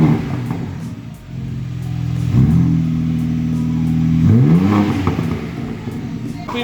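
BMW M3 G80 with exhaust valves open, revved twice in sharp rising-and-falling blips over a steady idle rumble, loud and close, with brief talk around it.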